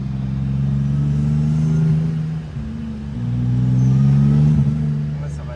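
A supercharged BMW E46 engine runs close by, its steady droning note climbing and falling through two revving swells.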